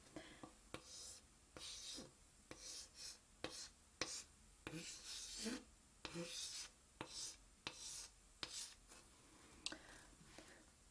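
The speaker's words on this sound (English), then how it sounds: "I'll write a word and I will read it to you." A pen writing a word on paper, heard as close, quiet scratchy strokes in short bursts separated by sharp taps and pauses, in a soft intimate setting.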